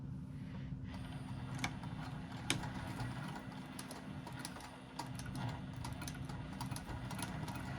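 A sewing machine runs steadily while stitching a lined box-bottom zipper pouch, with a low continuous motor hum and fine rapid needle ticks, a few sharper clicks and a brief slowdown near the middle, all fairly quiet and close.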